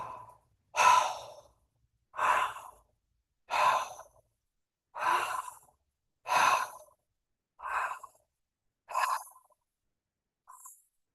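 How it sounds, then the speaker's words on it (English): Deep breathing exercise with long, powerful breaths through the mouth: eight strong exhales, each lasting about a second, come at a steady pace with silence between them, close and clear, the last one softer. "One more minute with the long, deep breaths, or the powerful breaths through the mouth."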